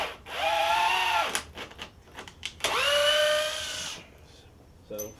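Festool TI15 impact drill driver sinking a 3-inch screw into wood, two sustained whirring bursts with a steady rising whine and a brief gap between them, close and loud.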